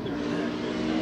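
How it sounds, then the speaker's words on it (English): An IndyCar engine drones at high revs on the front straight as it blows, a steady strained roar heard briefly at a moderate distance. "He's blowing his engine on the front straight."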